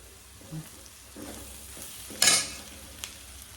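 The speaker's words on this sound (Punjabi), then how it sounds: "ਅੱਧੇ ਸਾਗ ਨੂੰ ਆਪਾਂ ਤੜਕਾ ਲਾ ਲਿਆ ਸੀ" Soft sizzling of greens (saag) being tempered in a pan with quiet stirring scrapes, and one sharp burst of hissing partway through.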